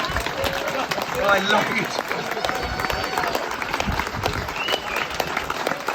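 Steady applause from a campaign crowd for a California governor candidate, loud and continuous throughout, with someone speaking over the clapping.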